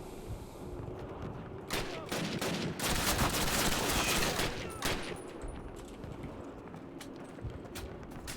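Call of Duty battle with bursts of machine gun fire and scattered gunshots, dense rattling volleys rising and falling, with faint voices underneath.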